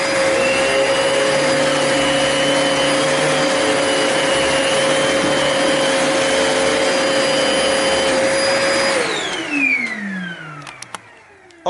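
A Kenmore pet-friendly lightweight bagged canister vacuum cleaner roars with a loud, steady whine up close, then shuts off and winds down in a falling pitch, ending with a few clicks.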